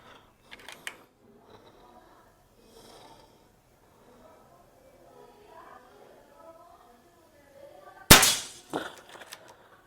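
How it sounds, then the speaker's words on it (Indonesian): A single sharp crack of a PCP air rifle firing a pellet near the end, loud and close after a stretch of quiet murmuring talk, with a brief ringing tail. "Tembakan keempat"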